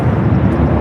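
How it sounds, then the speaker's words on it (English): Turkish Airlines jet rolling down the runway at LAX, a loud, close, broad roar of engine and rushing air over the brief moment. "Turkish rolling down to 25 Ryan, flight 180 heading back to Istanbul."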